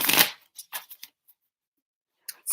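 Playing cards being pulled out and shuffled close by, with a loud initial riffle followed by several short, light flicks, a pause, then a few more crisp card snaps.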